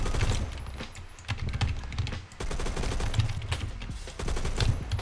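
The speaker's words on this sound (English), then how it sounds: "Did he just try and shoot me through a wall?" Rapid automatic gunfire from the Roblox shooter Phantom Forces, with dense overlapping bursts and single shots rattling almost continuously, loud and close, with a brief lull midway.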